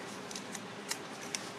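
Cheap scissors trimming fabric close to a zipper: several quiet, quick snips spaced across a short moment, faint against a soft room background.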